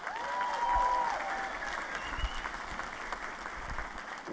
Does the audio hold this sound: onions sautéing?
no